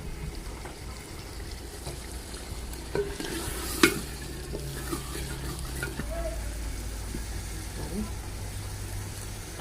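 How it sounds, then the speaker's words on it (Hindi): Mutton karahi fries in oil with spices, giving a steady low sizzle as a spoon stirs and scrapes the pot, with a few clinks and knocks, close but moderate in level. "अब हम इसको भून रहे हैं।"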